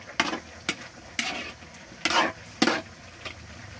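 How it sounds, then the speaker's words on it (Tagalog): Winged beans (sigarilyas) frying in a pan with oil, a utensil stirring them in five or six quick scraping bursts over a steady soft sizzle, close and moderately loud. "Haluin ulit natin"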